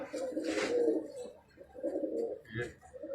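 Pigeons, including Bateri fancy birds, coo nearby in low rolling phrases with short pauses between them, fairly close, along with some faint chirps and no talk.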